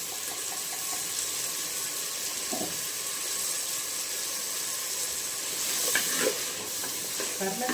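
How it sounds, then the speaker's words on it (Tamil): Ground tomato frying in a pan with small onions, a soft continuous sizzle with stirring scrapes and a few clanks, fairly quiet with no talking. "இப்போ நம்ம அரைச்சி வச்ச தக்காளி பழத்தை போட்டுருவோம்."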